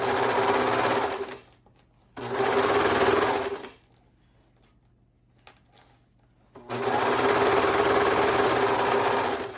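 A sewing machine stitches a shirt in three loud, steady runs of fast mechanical whirring, separated by quiet gaps with faint handling clicks.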